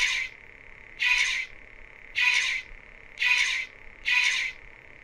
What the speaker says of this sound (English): when you change colors, it actually has a different sound too.